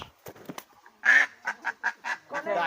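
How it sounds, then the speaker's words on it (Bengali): A series of loud, nasal quacks from a duck during a blindfolded duck-catching game, several calls in quick succession, close by after a few quieter sounds. "এই যে হাঁস"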